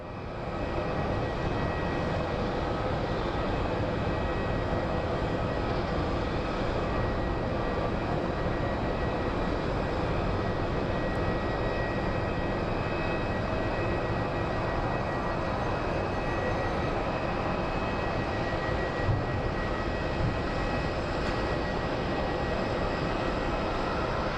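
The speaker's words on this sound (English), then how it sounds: "And a very, very smooth landing by that 737." An American Airlines Boeing 737 landing at Phoenix Sky Harbor airport gives a loud, steady jet roar that fills the whole stretch without letup, and no voices are heard.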